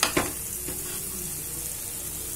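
Boiled, salted mutton tipped into a pot of frying potatoes gives a soft thump near the start, then a steady low sizzle and faint stirring scrapes that carry on alone.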